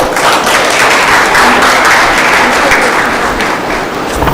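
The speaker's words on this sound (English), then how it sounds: "Thank you so much everyone for your wonderful applause." Loud, dense applause from a conference audience for the director, a continuous close wash of many hands clapping without pause.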